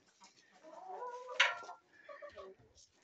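Chickens cluck and murmur nearby in short, uneven bursts, with one sharper squawk in the middle, fairly quiet overall.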